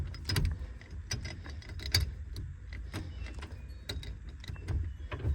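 A homemade hot rod gear shifter being worked into reverse, giving a series of sharp metallic clicks and clunks, some louder than others, over a quiet low background with no talk.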